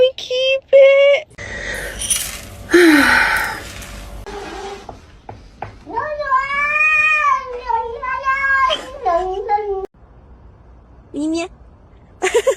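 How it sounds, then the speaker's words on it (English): A little kitten meows repeatedly in short and drawn-out cries, close and clear, with people talking between and around the calls. "I told you it was a little kitty."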